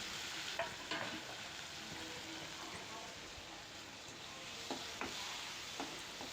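Tomatoes fry with half-cooked onions in a pan for a drumstick and brinjal tamarind curry, a steady soft sizzle with occasional scraping stirs and small spattering pops.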